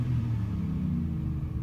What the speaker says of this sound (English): Jacob's just holding the truck on the rev limiter